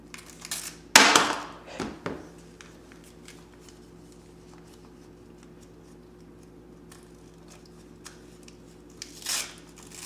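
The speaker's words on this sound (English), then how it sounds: "Just rip the paper." Gift wrapping paper ripped open, with a sharp tearing burst followed by a few shorter rips, then quiet rustling and a faint crinkle near the end.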